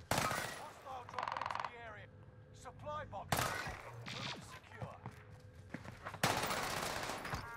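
Rapid bursts of Armaguerra 43 submachine gun fire in a Warzone battle royale match at medium range, several sharp automatic strings separated by short pauses, with a voice talking between them.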